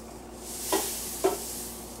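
A spoon drags twice through a very thick Scotcheroos mixture of Rice Krispies cereal, two short, heavy stirring strokes about half a second apart, close and fairly quiet.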